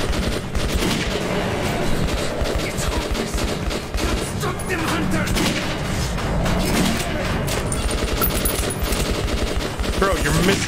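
Dense, continuous automatic gunfire from Metro 2033 Redux, loud rapid bursts with heavy booming impacts packed together throughout, and a voice briefly audible beneath the shooting.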